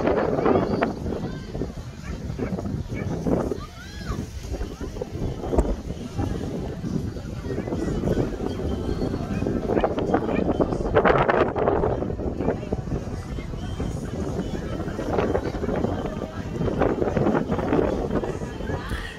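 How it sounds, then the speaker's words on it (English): Strong wind of about 20 miles an hour roars and buffets the microphone continuously aboard a boat off a Miami island, with gusts rising and falling throughout while a person talks over it. "the wind here must be blowing at least 20 miles an hour"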